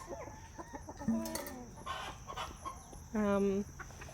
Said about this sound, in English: that's a silver laced cochin